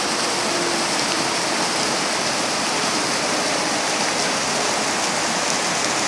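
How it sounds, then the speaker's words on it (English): Water pours steadily out of a culvert along an old railroad line after weeks of rainstorms, a continuous broadband rushing like a small waterfall, close and unbroken throughout. "The water coming out of that culvert."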